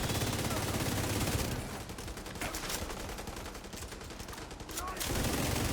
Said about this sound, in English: But my LMG goes brrrt.